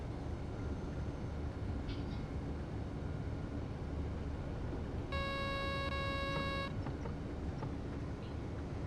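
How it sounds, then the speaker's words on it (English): A train safety system alert in a train simulator game, on an S-Bahn Vorarlberg service, sounds as one steady electronic tone lasting about a second and a half over the constant low rumble of the moving train. "that sound that you heard, that was just the safety system asking to be acknowledged"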